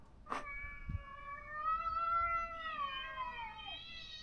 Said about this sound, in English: if the cat cries like that, it's gonna freak me out